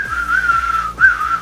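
A person whistles loudly and up close, imitating the high, sliding synth whistle of old-school West Coast hip hop in two wavering phrases over a low, thumping beat.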